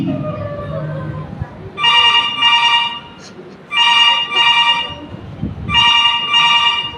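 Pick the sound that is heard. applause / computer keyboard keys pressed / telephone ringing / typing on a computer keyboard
telephone ringing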